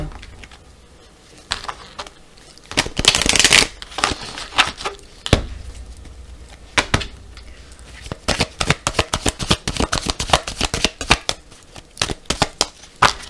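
A tarot card deck being shuffled and cut, with dense riffling bursts around the middle followed by many quick, crisp card snaps and taps close by, with no talking.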